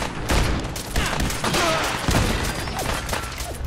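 Rapid bursts of gunfire from Gunners in Fallout 4, dense overlapping shots and fusillades crackling loudly and steadily throughout, with no talking.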